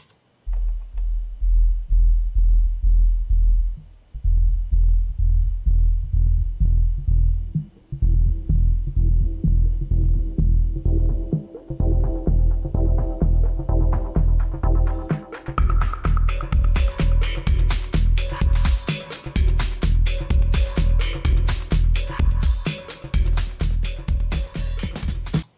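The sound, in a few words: audio filter sweeping through frequencies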